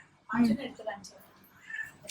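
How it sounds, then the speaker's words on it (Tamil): A house cat meows in a short, fairly close call, followed by quieter rustling and faint background voices. "எங்க வீட்டுல இன்னொரு பூனை இருக்கு"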